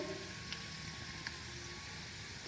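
A tadka tempering for dal gosht sizzles in a pan as a soft, continuous frying hiss with a few faint pops and no talking.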